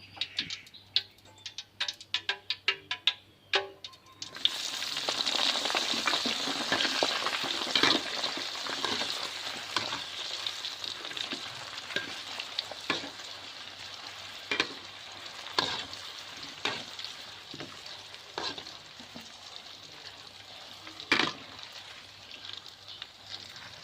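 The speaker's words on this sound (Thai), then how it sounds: "ตั้งกระทะแล้วเทน้ำมันลงไปนะเจ้า เดี๋ยวเราจะมาทอดมะเขือก่อนนะเจ้า" Hot oil sizzles and crackles steadily as eggplant fries in a pan, with scattered pops and a few clinks from stirring; no talking.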